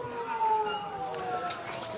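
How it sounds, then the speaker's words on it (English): A half-time siren sounds at a country Australian rules football match between Newdegate and Lake Grace/Pingrup as a fairly faint, wavering tone that holds for a couple of seconds over background ground noise. "As the half-time siren goes."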